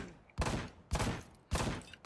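Three loud, sharp gunshots from the Ride to Hell: Retribution video game, evenly spaced about half a second apart, each with a short ringing tail and nothing else underneath.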